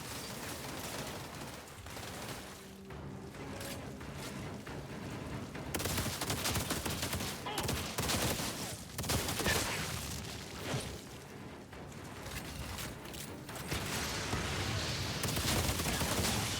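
Shotgun fire in the PC game Outriders comes as repeated heavy blasts and bursts amid chaotic combat, loud and dense throughout.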